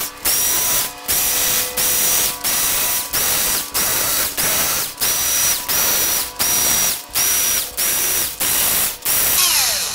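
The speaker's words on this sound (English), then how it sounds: "I like to use my cordless to get them zipped on out of there." A cordless drill spins bolts out of a Ford 4R70W transmission during disassembly, about a dozen close, loud ratcheting bursts in a steady rhythm, each broken by a short pause.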